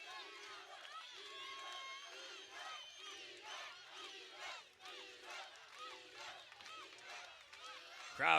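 A packed arena crowd roars and cheers throughout a women's kickboxing-MMA bout between Mardi and Çapar at a KOK event, a dense, steady swell of shouting with rhythmic chant-like surges and a sharp loud burst at the end.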